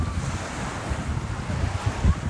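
Wind buffeting the microphone with ocean waves washing ashore at a Coco Cay beach, a continuous rough rumble with low gusty thumps close by, no voices heard.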